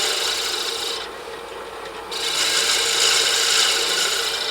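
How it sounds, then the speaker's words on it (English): A 45-degree chamfer is cut along the bottom edge of a wooden ornament base, producing a steady close rasping scrape that briefly lightens, then resumes a bit louder. "you have to cut it from the bottom out where the grain won't tear out"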